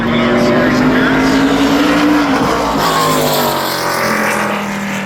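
An ARCA Menards Series race car at Berlin Raceway roars loud and close on a qualifying lap, its engine note holding steady then dropping in pitch as it passes, with an announcer talking over it.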